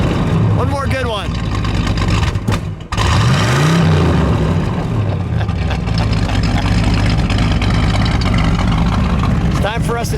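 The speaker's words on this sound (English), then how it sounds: "Give it a rev." 1971 Buick Riviera GS 455 V8 engine idling with a deep rumble, then revved sharply once with a rising and falling roar, loud and close, with people speaking over it.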